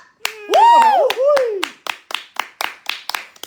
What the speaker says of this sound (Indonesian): Tepuk tangan untuk Ari Hunter